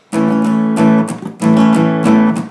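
Strummed acoustic guitar playing Sunshine by Jonathan Edwards, steady up-and-down strokes ringing loud and close with a bright chordal attack on each stroke and no voice.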